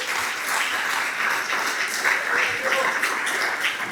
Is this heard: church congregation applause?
yes